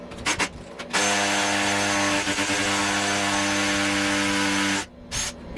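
A non-industrial hammer drill re-bores a wall hole at a downward angle for a Mr. Cool DIY mini split, running as one loud, sustained, close motor whine for about four seconds between brief stops.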